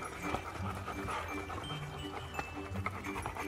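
A dog, a female at a birthday celebration with cake, works peanut butter stuck to the roof of her mouth, making close, continuous wet smacking and licking with panting breaths and a faint jingle of tags.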